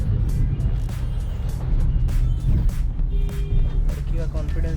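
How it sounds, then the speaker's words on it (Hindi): Dense road traffic crawls through a jam, a steady low rumble of car and truck engines with occasional brake hiss and horn-like tones, heard from inside a vehicle while people talk. "ट्रैफिक जाम है यहाँ पे"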